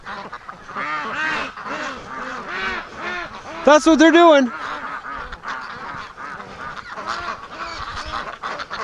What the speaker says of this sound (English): Come on, ducks, leave the straw alone.